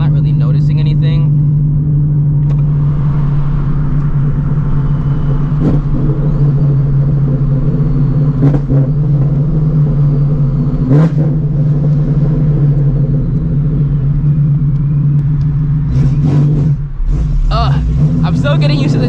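A 900hp Shelby GT350 runs with a steady, loud low engine drone and harmonic rumble throughout, with brief rises as it moves through the gears, and people talk over it.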